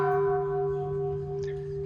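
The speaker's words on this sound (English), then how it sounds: "ringing the bell is optional." A temple bell in Nakhon Si Thammarat, Thailand, rings with a steady sustained metallic hum, its low tones lingering evenly through the whole moment, with no voices over it.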